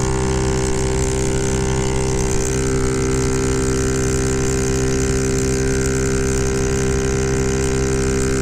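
A Honda Ruckus scooter with 12g rollers screams at high throttle near 8,000 RPM, a loud, steady, buzzing engine drone sustained close up from start to finish.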